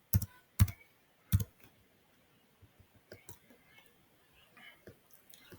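A computer keyboard being typed on, with a few loud close key clicks at the start and then a scatter of quieter, lighter keystrokes in an otherwise quiet room.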